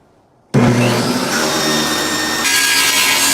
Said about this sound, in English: I needed to make a quick cut on my ghetto table saw